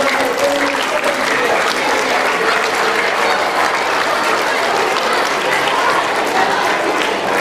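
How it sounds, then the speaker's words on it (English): An audience at a junior football club presentation day applauds parents, a dense, steady burst of clapping from a large indoor crowd, loud and continuous throughout. "everybody turn around and clap your mums and dads and uncles and aunties"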